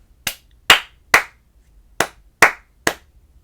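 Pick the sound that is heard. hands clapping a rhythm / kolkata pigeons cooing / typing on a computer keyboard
hands clapping a rhythm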